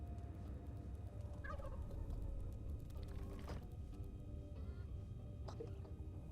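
Turkeys at a Gobble Farm in Dungeons 4 give a few short, faint gobbling warbles scattered over a low, steady rumble of background noise.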